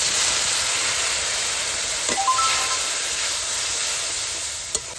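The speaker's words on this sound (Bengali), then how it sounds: "এটা ভালো করে কষিয়ে নেব" Onion with turmeric, chili powder, salt and chopped green chili sautéing for a Bengali fish curry, a steady close sizzle with faint stirring and a few soft scrapes.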